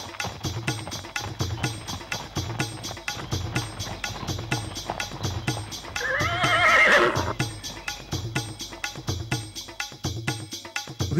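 Horses whinny loudly near the middle of an animated story scene, a drawn-out neigh rising over steady, rhythmic hoof clip-clops that continue throughout.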